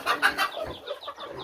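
Hens and small chicks on a farm cluck in quick, close, rapid bursts, several birds chattering over each other with soft peeping, no talk.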